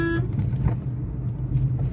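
A Hyundai Santro hatchback driving slowly over a rough, potholed road, with a steady low engine drone and muffled knocks and rattles from the suspension heard from inside the cabin.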